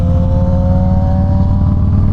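A 2021 Suzuki GSX-R1000 sportbike engine revving hard, a steady loud buzzing engine note held for the whole moment, close to the microphone.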